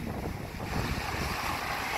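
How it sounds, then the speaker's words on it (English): Big, rough ocean waves at a beach give a constant, full roar of surf. Heavy wind buffets the microphone, and no one speaks. "big waves coming"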